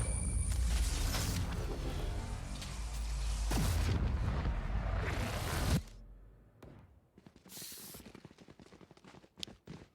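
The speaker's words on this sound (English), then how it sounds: "they do get that spike explosion" A spike detonates in a Valorant match with a loud, sustained booming roar that cuts off abruptly, followed by scattered sharp game clicks and impacts.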